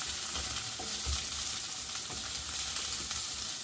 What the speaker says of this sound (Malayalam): പപ്രിക്കയും ഇച്ചിരി ഒന്ന് നിറം മാറി വരുന്ന വരെ ഇങ്ങനെ ഇളക്കിയെടുക്കാവുന്നതാണ്.